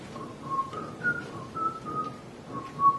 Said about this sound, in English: if you're just whistling like Yankee Doodle